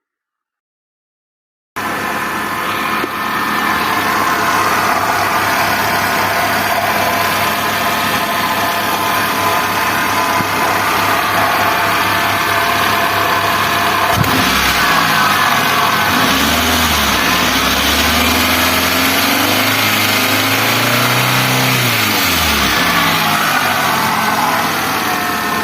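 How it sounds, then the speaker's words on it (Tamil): A Hyundai Santro car engine idles steadily up close, then revs up and down several times in rising and falling swells before settling back to idle, with no talking. "வாங்க இந்த இன்ஜின் சவுண்ட நீங்கள பாருங்களேங்க."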